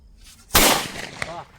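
A Kannan brand Sivakasi firecracker bursts with one sharp, loud bang, followed by crackling and a smaller pop as it fades, with voices faintly around it.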